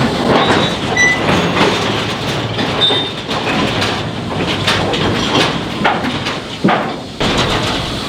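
A mine rail wagon rolls along the track deep underground in the Sovetsky mine, with continuous rumbling, rattling clatter and occasional squeals and clanks, loud and close.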